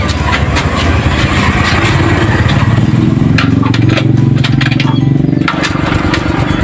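A Rusi Flair 125 motorcycle engine runs steadily and loud throughout after a spark plug fix, its dense low rumble continuous with a slight change in pitch near the end.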